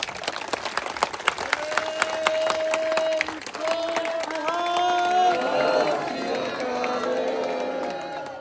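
At a Punjabi gathering, a run of sharp hand claps rings out over sustained tonal singing or music, with voices mingling in the background.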